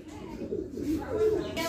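Pigeons on a farm coo in low, soft, rolling calls that repeat close by over steady background murmur.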